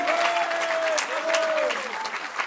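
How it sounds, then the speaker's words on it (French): Audience applause at a French concert of 1980s–90s songs at Bobino, a steady wash of clapping throughout, with a held vocal or instrumental tone gliding above it. "On peut les applaudir encore très fort."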